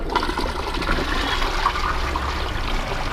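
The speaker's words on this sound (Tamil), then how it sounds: "இப்போ ஃப்ளஷ் பண்ணி பார்த்துடலாம்." A repaired toilet flushes with a strong rushing gush of water that continues steadily into trickling refill, close and clear throughout.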